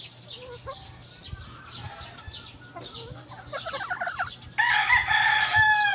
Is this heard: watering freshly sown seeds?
no